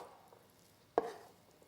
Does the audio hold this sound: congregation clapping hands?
no